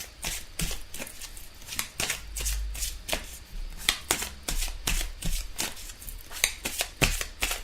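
Tarot cards being shuffled by hand, a close, soft series of riffling flutters and taps in steady bursts, fairly quiet with no talking.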